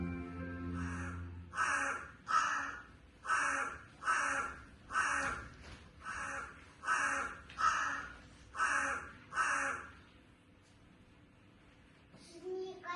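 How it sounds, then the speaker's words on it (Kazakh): A crow caws about ten times in a regular rhythm, loud and close, each call harsh and spaced about a second apart, then quiets near the end. "балапан қарқ-қарқ деген дауысты естиді"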